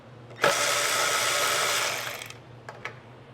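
A 10 millimetre socket on an extension, likely driven by a power tool, removes a bolt from a Cub Cadet 2X24 snow thrower carburetor: a loud, steady whir of about two seconds that stops abruptly, followed by two brief faint clicks.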